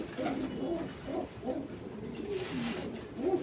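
Pigeons coo repeatedly in a loft holding young birds for sale, soft rhythmic throaty calls recurring about every second over a steady background hum, with no talking.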